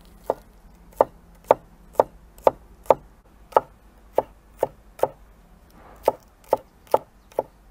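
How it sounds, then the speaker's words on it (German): A knife chops spring onion into rings on a cutting board, about fourteen crisp, evenly spaced taps close by in a quiet kitchen, no talk. "Und schneiden uns kleine Ringe runter."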